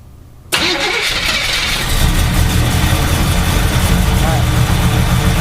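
An old car engine cranks and catches about half a second in on half choke, then runs steadily at a rough, loud idle that rises slightly after two seconds, with no talk over it.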